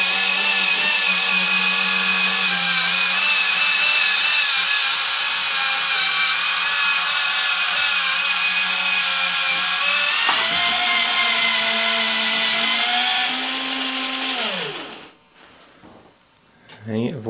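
A Culinare One Touch electric can opener cutting its way around a tin of tuna gives a steady, close motor whine that holds for about fourteen seconds, then winds down and stops, followed by a short clatter.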